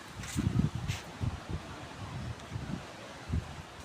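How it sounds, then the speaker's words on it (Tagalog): Wind gusting at a rough, wave-tossed seashore, heard as low rumbling buffets against the microphone with a steady airy hiss, rising in a few stronger gusts over about four seconds. "Mahangin."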